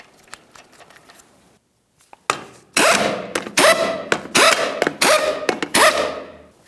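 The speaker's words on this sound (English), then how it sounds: "Start on all five of your 21 millimeter lug nuts, bottom them out, and get the wheel back on the ground" Lug nuts being run onto a Lincoln Navigator wheel, likely with a power tool: a quiet patch of faint ticks, a brief pause, then a series of loud, sharp rattling bursts, each ending in a whir.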